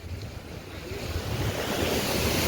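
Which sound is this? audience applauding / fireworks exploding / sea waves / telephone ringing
sea waves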